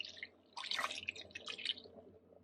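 A liquid mixture for pork adobo poured into a Ninja Foodi pot, heard as quiet splashing and dribbling in short bursts, close and faint, with no talk.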